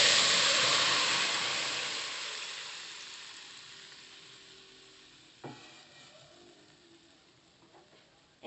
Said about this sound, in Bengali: এখন আমরা লাউয়ের ঝোলটা দিয়ে দিচ্ছি।